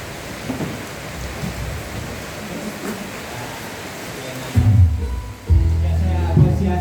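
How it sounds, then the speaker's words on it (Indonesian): Heavy rain pours steadily as a dense, even hiss for the first few seconds. Louder, more tonal sounds then break in over the downpour toward the end. "masih hujannya deras ya"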